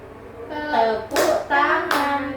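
Two sharp hand claps land about a second apart during a child activity, set against a voice speaking or singing throughout.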